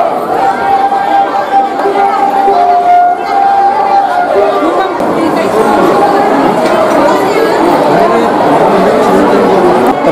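Dense crowd of devotees at the Shri Siddharameshwar temple festival in Solapur, a loud continuous hubbub of many voices with nearby chatter and an announcement-like voice over the throng.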